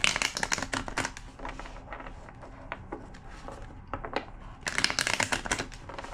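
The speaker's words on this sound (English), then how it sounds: "Two more shuffles." A deck of tarot cards is shuffled by hand in close, crisp riffling bursts, loud at the start and again near the end, with quieter rustling between.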